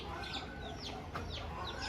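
A hen and rooster pair of country chickens clucking up close in a steady run of short calls, with a couple of sharper squawks standing out from the bustle of a poultry sale yard.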